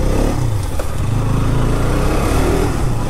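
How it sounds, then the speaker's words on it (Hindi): A 2022 KTM RC 200 motorcycle engine revs up close and pulls away in first gear, a loud, rough mechanical drone rising and falling. "क्रैंक अप करते हैं bike and first gear let's go."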